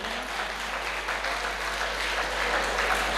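Continuous applause from the audience at a Punjabi poetry gathering held at a college, a fairly soft, even wash of clapping that holds steady for a few seconds with no voice over it.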